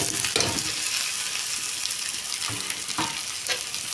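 Tomatoes frying in a pan for aloo dum give a dense, close sizzle, with a few stirring knocks and scrapes rising out of the hiss.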